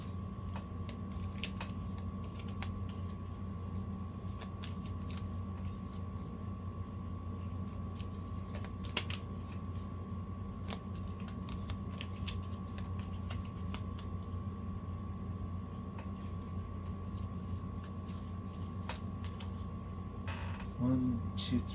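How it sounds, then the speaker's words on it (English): A deck of cards for the board game This War of Mine being shuffled, a soft, continuous riffling and ticking texture running on for many seconds, close and fairly quiet over a low steady hum, with people talking faintly at times. "we're gonna shuffle this up a little bit again"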